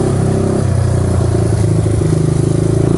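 A Honda XR200R motorcycle engine runs loud and close, a throbbing single-cylinder idle rising into revs with clattering mechanical pulses throughout.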